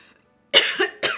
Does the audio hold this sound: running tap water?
no